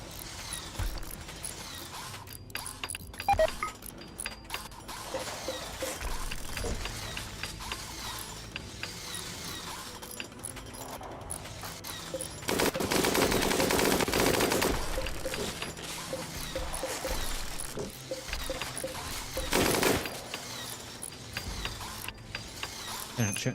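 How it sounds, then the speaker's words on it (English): A minigun firing at a turkey in RimWorld: dense, rapid mechanical gunfire rattling through a busy mix, with a louder sustained burst midway and another brief burst near the end, and talk heard over it. "machine gunning the turkey? Jesus Christ, a minigun."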